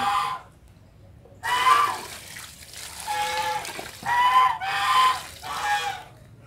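Muscovy ducks kept as farm livestock give loud, harsh honking calls in repeated bursts, with watery splashing and quieter gaps between the calls.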